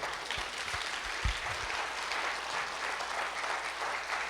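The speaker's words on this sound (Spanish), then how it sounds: "denle bien fuerte ese aplauso al Señor" Church congregation applauding at a consecration seminar, a steady, dense wash of clapping filling the room for the whole stretch, with a few low thumps near the start.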